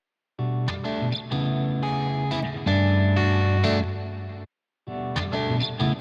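Electric guitar processed with a doubler effect in Studio One, playing sustained chords and picked notes with a wide, chorused sheen, loud and close, stopping briefly before resuming.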